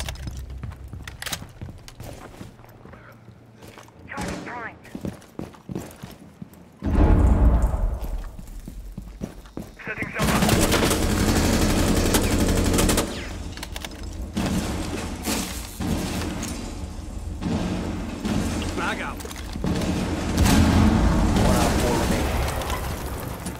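Shotgun blasts and heavy booms go off during a Rainbow Six Siege match, scattered as sharp bursts through a noisy stretch of gameplay while players chat over the action.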